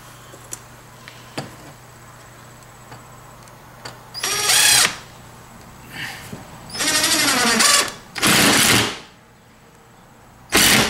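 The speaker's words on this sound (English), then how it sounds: "And we'll put another screw on the other side." A power drill drives a screw into a wall stud in several loud, close bursts of one to two seconds each. The bursts are separated by quiet pauses with small clicks and handling sounds.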